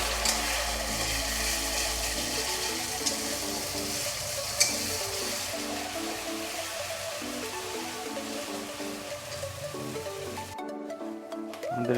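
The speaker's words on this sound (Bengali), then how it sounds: "আমাদের পেঁয়াজ ও আদা রসুন বাটাটা ভাজা ভাজা হয়ে গেছে।" Onion and ginger-garlic paste fry in a pan, giving a steady, close sizzle with occasional stirring scrapes that continue throughout before cutting off near the end.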